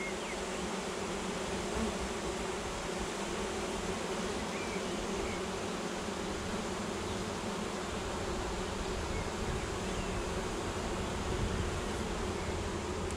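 Honey bees buzzing around an open hive during a spring inspection in March, a dense, steady swarm hum close by and unbroken for the whole stretch, with no voices.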